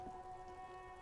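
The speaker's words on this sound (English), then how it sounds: "It's raining again." Steady, soft hiss of rain falling in the video game Disco Elysium, a constant wash of drops on a surface under a low sustained musical tone, with no voices.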